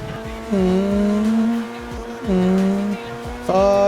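Custom BMW M4 F82 in GTA 5 driving flat out, the engine note climbing through repeated upshifts with brief dips between gears, loud and close, with faint tire noise.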